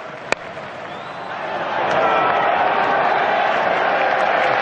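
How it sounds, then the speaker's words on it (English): A cricket test match crowd jeers at a slow-scoring batsman, a broad murmur of voices that swells into a sustained rumble, with a single sharp knock near the start. "A bit of jeering from the crowd."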